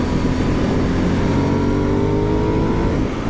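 A 2021 Aprilia Dorsoduro supermoto's engine drones steadily and close, a smooth continuous rumble with rising harmonic tones as revs climb slightly, heard alone without talk.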